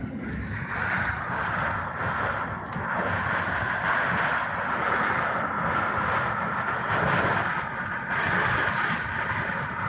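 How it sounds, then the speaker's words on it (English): Steady, heavy rain roars continuously with gusty wind noise during a storm outbreak in north central Kansas, a dense broadband wash filling the whole stretch without pauses or voices. "Here comes the rain again."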